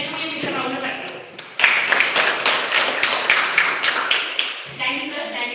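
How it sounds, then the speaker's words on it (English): A roomful of children applauds a guest being welcomed at a school event. After a short spoken phrase, irregular clapping swells into sustained, fairly loud applause with a few distinct individual claps, then fades as a voice returns. "Please sit down and welcome you with a round of applause."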